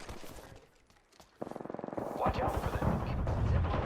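Wingman pistol fire in the video game Apex Legends, sharp game gunshots that open into a dense, loud stretch of overlapping shots and effects, following a quieter start.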